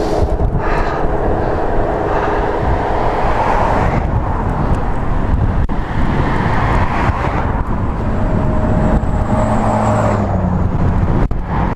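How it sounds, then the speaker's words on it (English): A noisy truck passes a cyclist on a cold-weather road bike ride, a loud, close roar of engine and tire rumble mixed with heavy wind buffeting that swells and lingers throughout. "Noisy truck, huh?"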